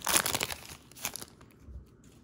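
Trading card foil packs of 2019 Contenders Football being ripped open by hand, a quick burst of crinkling and tearing up close that fades into quieter rustling.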